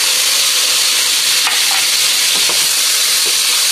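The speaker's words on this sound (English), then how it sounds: "I'll let them peppers fry also." Steady, loud sizzling of red peppers frying in a pan, a continuous hiss with occasional faint scrapes and clinks of stirring.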